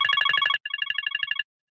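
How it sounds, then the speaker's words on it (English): A telephone rings in two bursts of electronic trilling, a loud warbling ring followed by a brief gap and a second slightly softer ring, close and alone with no talk. "You hear the phone ringing in your ear?"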